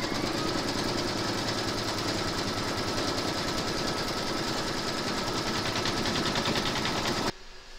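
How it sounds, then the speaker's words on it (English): An embroidery sewing machine stitches through batting held in a hoop, giving a fast, even mechanical chatter that runs steadily for about seven seconds and then stops abruptly, with no speech. "You're now going to pop your hoop into your machine and stitch round number three"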